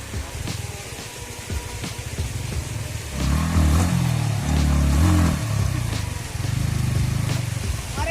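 An R15 sport motorcycle engine revs on a rocky off-road trail with water crossings, a loud, throaty drone rising and falling in several sustained pulls after a quieter idling start.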